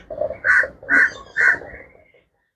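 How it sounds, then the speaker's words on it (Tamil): A crow caws three times in a steady rhythm, loud and fairly close, at Dehiwala Zoological Gardens in Sri Lanka, followed by a quieter trailing call and then silence. "பாருங்க இந்த பறவையோட சத்தம் உங்களுக்கு கேட்கும்."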